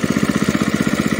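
A small engine runs at idle, used for clearing brush and weeds on a plantation, with a fast, even chugging pulse that is close and loud throughout.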